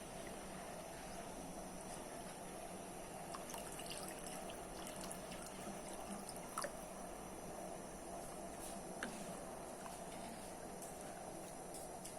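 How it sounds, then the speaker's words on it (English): Water poured into a pot while cooking Sri Lankan yellow rice, a steady trickling, splashing wash that runs evenly for about twelve seconds, with no voices. "Let's add the water."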